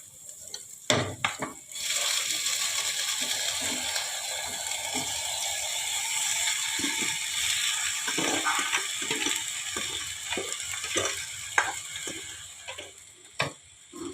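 Cooked rice tipped into a hot pan for chicken fried rice, setting off a steady, close frying sizzle with scattered clicks and scrapes of stirring throughout.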